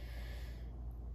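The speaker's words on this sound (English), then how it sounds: "Normal breathing looks like this. Breathe in." A person draws one short, soft inhale as a normal breathing demonstration in a flute-playing lesson, a faint airy hiss heard alone.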